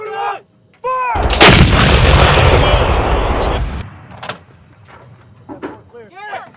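An M777 155mm howitzer fires one massive, close blast that booms and rolls on for a few seconds before fading, while crew members shout just before and after.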